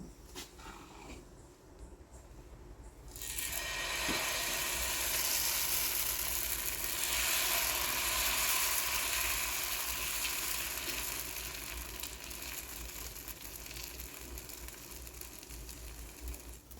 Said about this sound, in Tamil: தோசைக்கல் காஞ்சிருச்சு. லேசாக எண்ணெய் தொடச்சிட்டு நீ தோசை ஊற்றிக்கலாம்.